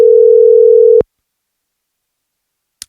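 A single steady telephone call tone sounds loudly for about a second while calling someone, then cuts off into silence, followed by a faint click.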